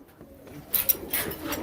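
Pigeons at a pigeon fancier's home coo softly at close range, a few short bursts over faint background noise.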